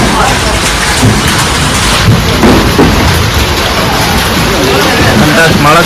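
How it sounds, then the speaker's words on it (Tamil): Steady heavy rain pours continuously with a low thunder rumble beneath, the downpour dense and close throughout, with a faint voice or two murmuring in the background. "மழை தூர ஆரம்பிச்சிச்சு ஹண்டர்ஸ்."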